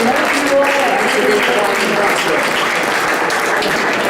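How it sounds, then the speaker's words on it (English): A conference audience applauds a panel at the close of a Q&A session, a loud continuous round of clapping throughout. "You should all give yourselves a big round of applause for your participation."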